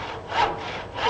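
Hand saw cutting through a long wooden pole clamped firmly in a traditional wooden clamping bench, two rasping strokes rising and falling in a steady rhythm, close and clear with no talk.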